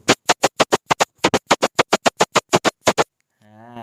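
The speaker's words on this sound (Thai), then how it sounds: "ขูดไม้ให้ดูนะครับ" A rapid series of short, sharp scraping strokes on wood, heard through a Logitech G333 earphone microphone, about twenty quick rasps in an uneven rhythm, close and loud, ending with a brief tonal hum.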